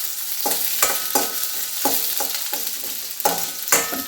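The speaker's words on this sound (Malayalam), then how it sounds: "അതിട്ട് നന്നായി വഴറ്റാം." Garlic, ginger and green chilies sautéing with small onions in a hot pan, a close sizzle broken by regular scraping stirs of a spoon, loud and with no talk.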